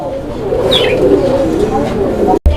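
Fancy pigeons for sale coo in low, rolling murmurs beneath nearby voices, with a brief chirp and a sudden cut near the end.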